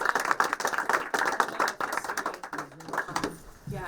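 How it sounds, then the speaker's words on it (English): Crowd applause at an outdoor Braintree civic celebration of the U.S. Army's 250th anniversary, a dense run of many hands clapping at moderate loudness that thins out toward the end. "I would love to give you a round of applause"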